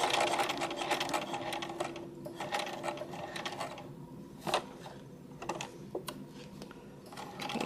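Sewing machine stitching a seam on fabric with batting, pivoting around corners, in close, quiet bursts of rapid mechanical whirring, with brief pauses and clicks between runs.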